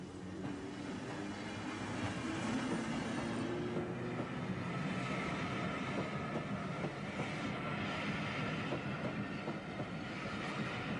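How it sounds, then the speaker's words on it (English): Train crossing an automatic level crossing on British Rail, a steady loud rumble of wheels and rolling stock running throughout with faint rhythmic clatter, no voices. "the approaching train actuates track circuits and treadles, causing the road traffic lights to flash, bells or warblers to sound"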